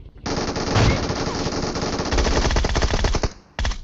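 Rapid automatic gunfire in the mobile shooter BGMI rattles out loud and close in a sustained burst, cuts off briefly, then restarts.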